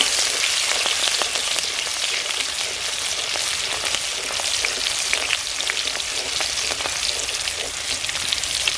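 Garlic sizzles and crackles steadily in hot oil in a wok, a dense, continuous frying hiss with small pops throughout, close and fairly loud with no voices.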